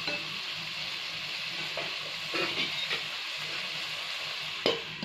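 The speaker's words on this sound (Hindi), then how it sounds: "टमाटर के साथ मसालों को अच्छी तरह से भून लेंगे" Tomatoes and spices fry in a covered pan for an egg and potato curry, making a soft, steady sizzle with occasional crackles and brief louder bursts, close and with no voices.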